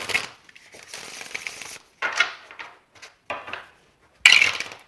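Tarot cards are shuffled in several quick bursts separated by short pauses, crisp riffling close by with no talking.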